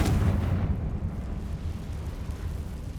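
A Confringo fire spell explodes in Hogwarts Legacy, a heavy low boom at the start that rolls into a sustained rumbling roar and fades only slightly over a few seconds, with no voices.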